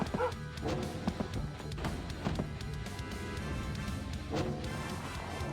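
A dog from a Rise of the Triad video game map pack barks and whimpers in short yips over a dense, steady game-sound background.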